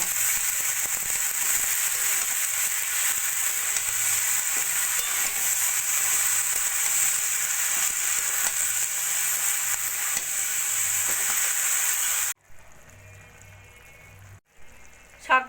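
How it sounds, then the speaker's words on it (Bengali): Washed fenugreek greens sizzling in a pan of frying vegetables and spices, a loud, even crackle with stirring that stops abruptly near the end, leaving quieter kitchen sounds and a brief clatter. "এবার দিয়ে দেবো আমি আগে থেকে বেছে ধুয়ে রাখা মেথি শাক শাকটা ভালো করে সবজির সঙ্গে মিশিয়ে নেব"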